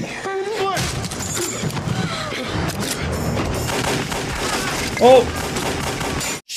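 Gunfire from a scene in the 1999 film The Mummy rings out in loud bursts and booms mixed with a dense soundtrack, while viewers react over it with exclamations.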